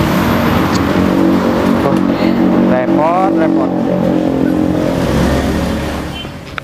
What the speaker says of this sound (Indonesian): Udah, aku pakai motor ini aja.